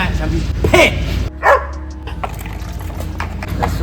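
A dog barks a couple of times close by, short sharp yips in a car or garage setting, with people talking over and around the barks.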